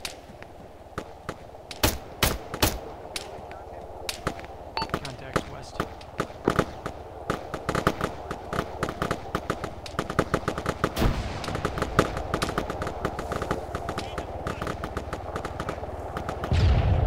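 Rapid bursts of gunfire crack repeatedly, some close and sharp, others distant, in irregular volleys throughout, with voices talking underneath.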